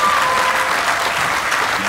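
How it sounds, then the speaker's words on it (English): Concert audience on a cruise ship applauding at an acoustic country show, a steady dense wash of clapping that fills the whole moment at close, loud level without a break. "give yourself a round of applause for kicking ass"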